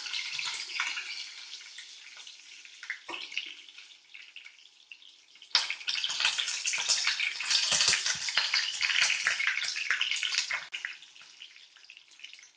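Curry leaves hitting hot oil with mustard seeds for a fish curry, a loud burst of crackling sizzle that surges partway through, holds steady and then eases off, with no talking.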